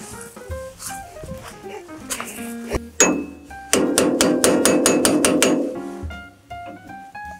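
A hammer strikes a part of a Kioritz K1620 straw and grass cutter during assembly. It makes a close, loud run of about eight quick metallic taps, with scattered clanks of parts before and after.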